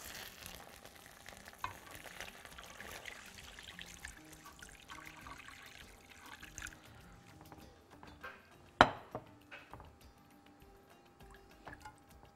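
Seasoned kofta with broth sizzles and bubbles in a pan, a faint continuous fry with soft liquid trickling and a few sharp clinks from stirring, including one louder knock, with no talking over it.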